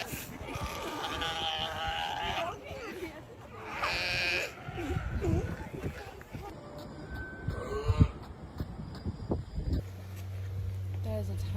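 A crowded sea lion colony with adults and newborn pups, loud overlapping barks, groans and bleating calls close by, with people talking between the cries and a low rumbling hum near the end.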